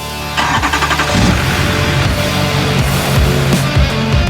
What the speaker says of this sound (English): get some diesel in it, and see if we can get her to start up